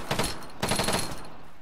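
Enemy gunfire in the video game Arma 3: two quick bursts of rapid automatic shots, fairly close and sharp, with no voices.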